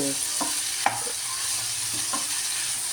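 Chicken pieces sautéing in oil for a pepper fry, a steady close sizzle broken by a few sharp scrapes and clinks of a spoon against the pan.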